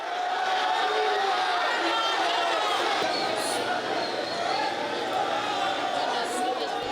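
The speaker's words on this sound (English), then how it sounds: "a massive crowd of passionate fans and supporters gathered at Jackson's Airport today to extend a heartfelt welcome to the Australian rugby contingent" A massive crowd of rugby fans gathered at Jackson's Airport welcomes the Australian rugby team, a dense, steady roar of chatter and cheering that runs throughout.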